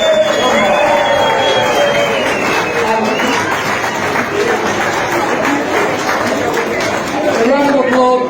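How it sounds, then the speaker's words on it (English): A BMX show crowd at Cleethorpes applauds and cheers in a loud, continuous wash of clapping, with chatter and voices mixed throughout. "Everybody, give everybody a round of applause."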